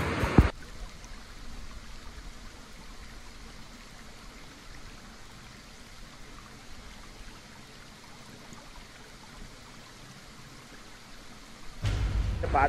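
A waterfall flowing strongly at Asherigadh Fort: a steady, even rush of falling water filling the whole clip, with brief louder bumps of nearby handling noise at the very start and end.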